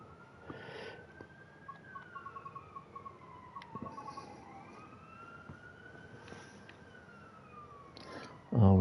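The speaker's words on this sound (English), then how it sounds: "More blooming sirens, probably ambulances." Ambulance sirens passing outside, a faint wailing tone that rises and falls while rhythmic ticking and other distant sounds continue underneath.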